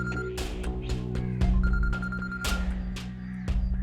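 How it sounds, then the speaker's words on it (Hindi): A telephone rings repeatedly in a domestic drama scene, its steady electronic tone sitting beneath a busy bed of background music with sharp rhythmic hits. "मेरा फोन बज रहा है"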